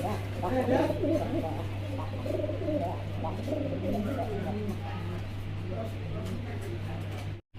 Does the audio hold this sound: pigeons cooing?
yes